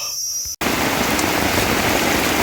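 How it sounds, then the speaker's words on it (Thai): Steady rain pours down outdoors in a forest area with sandy soil, a dense, continuous hiss that starts abruptly after a brief quiet moment and carries on loud and uniform with no voices. "ตอนนี้ฝนตก"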